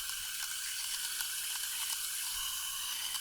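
Water pours steadily into the soil berm ringing a freshly transplanted tree, a constant hissing flow with no talk over it.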